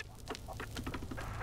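A chicken in a video game gives a quick run of soft, rapid clucks, several short chirpy calls in a row, faint over a low background hum.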